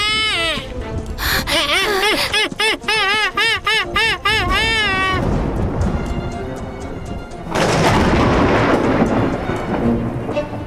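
Thunder crashes from a nearby lightning strike in an animated mountain scene, a loud broadband rumble that swells in the second half and follows a run of wavering, bleat-like voiced sounds.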